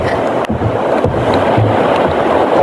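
Big sea waves surge in a continuous loud roar during rough, rainy weather, with wind buffeting the microphone throughout.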